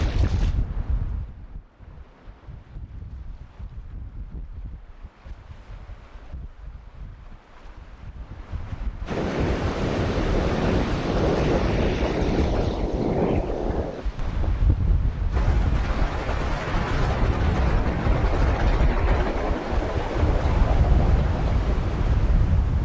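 Ocean surf rolls in along the shore at a fly-fishing spot, a continuous loud wash of breaking waves mixed with heavy wind buffeting the microphone.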